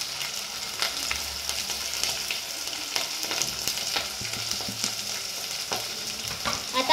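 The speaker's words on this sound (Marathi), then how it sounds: "आता आपण पटापट मिक्स करून घेतला।" Spices being stirred into sambar in a frying pan: a steady, close sizzle with repeated scraping strokes of a spoon running throughout.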